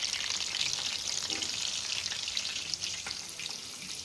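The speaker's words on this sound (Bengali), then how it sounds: "এই তো দেখো আমাদের চিকেন সাথে ভাজা হচ্ছে" Chicken pieces fry in a hot pan for homemade chicken satay, giving off a steady, dense sizzle and crackle with no voices. The frying stays fairly soft and even throughout.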